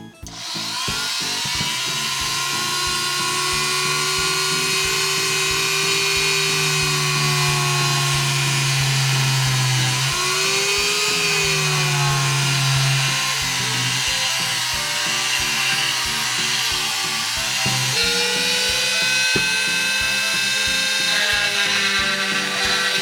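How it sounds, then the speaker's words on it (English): A Dremel rotary tool bores a hole into the base of a small resin Shopkins figure, giving a close, loud, continuous high whine that dips and recovers in pitch as the bit meets resistance. "I'm going to make a hole. And I'm going to do that with this Dremel."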